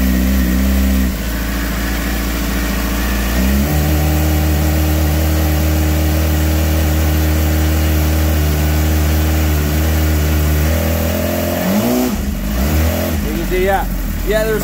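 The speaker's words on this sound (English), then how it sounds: "Rev it up." A Suzuki GSX-R600 sport motorcycle engine, low on fuel, runs close by, revving up and holding a steady high-rpm drone before dropping back and blipping the throttle; a voice talks over the engine.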